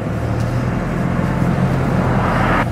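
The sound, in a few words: road traffic while driving at night in Paris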